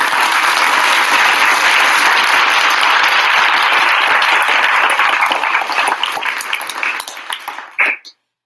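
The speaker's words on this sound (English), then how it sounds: "Hand clap of praise for this beautiful woman." A crowd applauds with loud, dense hand clapping that holds steady for several seconds, then thins into scattered individual claps before cutting off abruptly.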